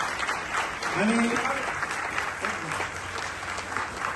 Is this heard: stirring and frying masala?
no